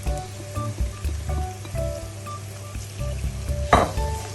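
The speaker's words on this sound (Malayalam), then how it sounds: "സവോള നോക്കാനും തക്കാളി ഒന്ന് ചെറുതായിട്ടൊന്ന് ഉടയാൻ വേണ്ടിയാണ് നമ്മൾ ഇളക്കി കൊടുക്കുന്നത്." Onion, tomato, and coriander and chili powders sizzle and fry in a pan while being stirred, a steady close crackle with scraping stir strokes and a louder clatter near the end, no voices.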